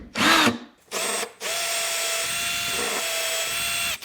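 A power drill whines steadily at close range, starting in short bursts and then running continuously as it bores into a metal Subaru AVCS exhaust cam gear.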